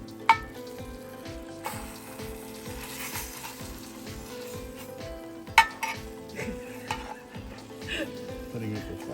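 A baked pear is flipped in an air fryer, with steady low sizzling and frying noise, scattered clinks of utensils against the basket, and a few sharper knocks, close and moderately loud.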